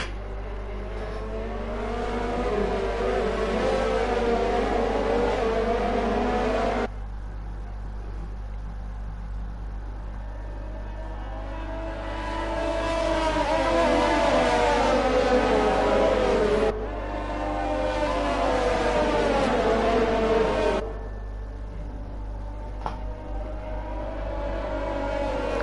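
Sim race cars accelerate away in a pack on a Belgium circuit as the safety car pulls off, engines rising and falling through loud bursts with shifts, separated by quieter stretches over a constant low hum.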